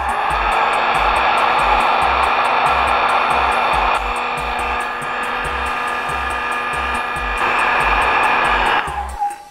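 A hand-held device blows warm air on snails in a vegetable garden, producing a loud continuous whirring drone with a rhythmic low thumping, the airflow wavering slightly before cutting off at the end.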